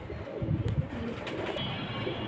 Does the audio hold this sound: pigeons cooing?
yes